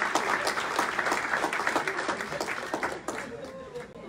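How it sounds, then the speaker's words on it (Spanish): A church congregation applauds the pastor's in-laws during an evening service: dense, lively clapping from a crowd, loud and continuous, with voices calling out over it and fading a little toward the end. "un aplauso para mi amado y querido suegro y suegra que están con nosotros esta noche"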